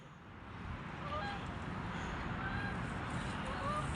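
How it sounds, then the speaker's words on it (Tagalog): A flock of birds, likely geese, calls from high overhead outdoors in Montreal, faint repeated honks over steady traffic-like background noise with a voice speaking. "dadatingan na yung mga ibon"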